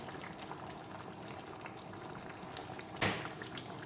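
Beef stew simmers in a lidded pot, giving a steady, even bubbling hiss throughout with no voices, then one brief, louder splash or clatter near the end.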